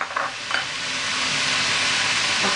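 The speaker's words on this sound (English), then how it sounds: "Just saute it until the shrimp turns" Shrimp sautéing in hot oil makes a close, continuous sizzle that builds and steadies after a couple of quick stirring bursts at the start, with no voices.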